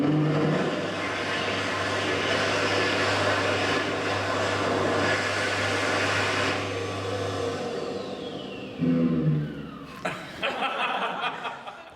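A slightly broken hand dryer running with a steady loud blowing roar and a low droning hum, then sputtering and shifting pitch near the end with uneven bursts and a falling whine.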